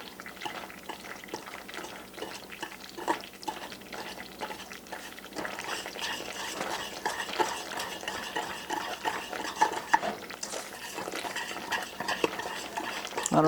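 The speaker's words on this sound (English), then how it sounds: "just continue to stir it so that that sugar is completely dissolved" A spoon stirs sugar in a pan for caramel, with faint repeated scraping and light clinks in a steady rhythm that grow slightly louder toward the end, heard quietly and without speech.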